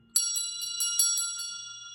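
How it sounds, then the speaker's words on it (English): A vintage brass school bell is swung by hand, giving about seven bright, ringing strokes in a steady rhythm that sound close and loud, with the metallic tone lingering between hits. "we found this brass school bell"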